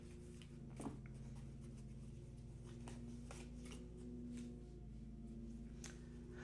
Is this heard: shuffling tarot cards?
yes